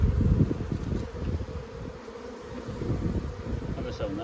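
Honeybees massed on the top board of a hive during an early-spring inspection in February, a close, continuous buzzing drone that rises and falls, with no voices.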